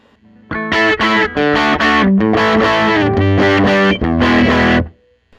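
A Teye Coyote electric guitar played with its regular tone, loud and close, strummed chords ringing in bursts with brief gaps, carrying a gritty, driven edge and no talking over it.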